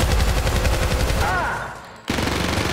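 Rapid automatic gunfire in the video game Syndicate, a loud, dense stream of shots that fades briefly, cuts out for a moment, then resumes, with a player talking over it.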